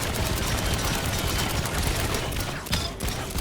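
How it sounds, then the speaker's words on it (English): A simple machine gun firing in the Trailmakers video game, a rapid, unbroken stream of loud shots, steady and close, with a brief dip near the end before resuming. "First off, with a simple machine gun."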